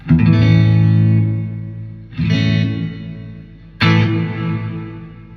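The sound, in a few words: Crate FlexWave 120/212 amplifier reverb turned all the way up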